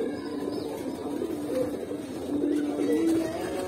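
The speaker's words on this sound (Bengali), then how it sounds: "এই যে এই জায়গায় আবার কালো কালো কবুতর আছে" Black pigeons in a loft give low, soft coos, a few drawn-out calls rising and overlapping toward the end, close and moderately loud.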